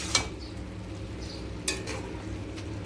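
Tomato and spinach curry with potato and carrot being stirred in a pan, a low steady sizzle with two sharp spatula scrapes against the metal, no voices.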